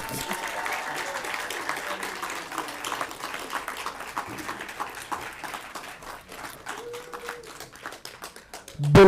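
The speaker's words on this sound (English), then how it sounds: "Another round of applause for Mr. Omar here." An audience at an educational forum applauds with scattered, lively clapping and crowd noise, while a speaker's voice carries over it.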